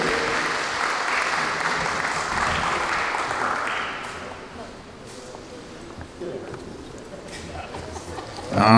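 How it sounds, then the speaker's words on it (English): Wedding guests applaud the toasts at a reception, a steady wash of clapping from a crowded room that swells, then thins and fades toward the end. "how about a big round of applause for all of our toasts?"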